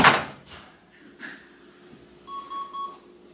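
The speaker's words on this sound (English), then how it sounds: "And now let's open the door and leave it open." A microwave door clicks open with a sharp thunk, a couple of soft knocks follow, then a short run of high electronic beeps.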